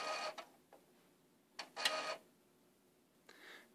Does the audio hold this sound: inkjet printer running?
yes